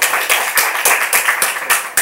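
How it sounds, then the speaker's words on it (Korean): A church congregation claps in praise after a prayer, with loud, rhythmic unison clapping at a steady beat of about four claps per second. "오늘 우리의 기도를 다 들어주시고 응답해 주신 우리 하나님께 우리 찬송의 박수로 올려드립니다."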